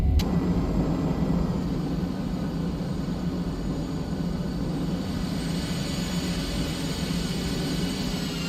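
An aircraft approaches the long shuttle landing facility runway at KTTS in a flight simulator, a steady droning engine and airflow roar holding level after a brief sharp click at the start.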